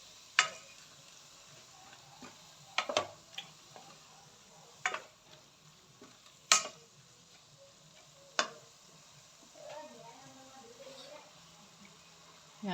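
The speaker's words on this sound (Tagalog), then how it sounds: "Hayaan muna natin ang ating ground pork na maluto." Ground pork sizzling softly in a pan at a home birthday gathering, a faint steady fry punctuated by sharp clinks and taps of a utensil against the pan.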